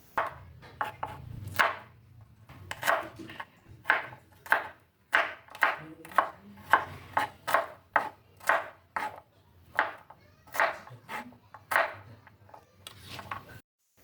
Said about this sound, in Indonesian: Ini supaya nanti lebih mudah dihaluskan, dipotong-potong terlebih dahulu.